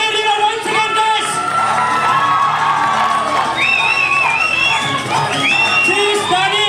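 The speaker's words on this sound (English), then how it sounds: "Big applause for the Miss Dani Rina once again" A crowd cheers, whoops and shouts for the newly crowned Miss Capital 2021 winner, a loud, dense roar of excited voices with high yells rising above it, continuous for several seconds.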